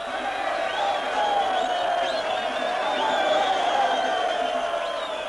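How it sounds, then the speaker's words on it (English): A huge crowd in Rhodesia welcoming Mugabe home gives off a sustained, far-off roar of cheering and chanting voices that hold steady without a break. "The biggest crowd ever seen in Rhodesia welcomed home the candidate most feared by the whites."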